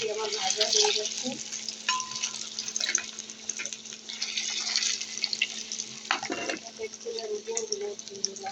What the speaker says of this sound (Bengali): ডিমগুলো সুন্দরভাবে ভেজে নেব।